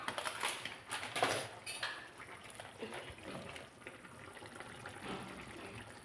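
Chickpea curry bubbling and simmering in a pot while being cooked for breakfast, a steady wet gurgling and hiss that swells louder at the start and then settles into a softer continuous boil.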